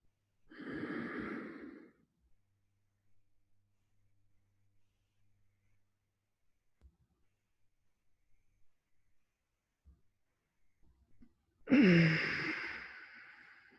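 Deep, slow breaths during Tummo meditation: one long breath near the start, a long quiet pause, then another full breath near the end, close and clear with no talking.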